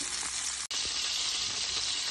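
Meat fries in a pan with a loud, dense, close sizzle that runs steadily, broken once by a brief dropout, no talking.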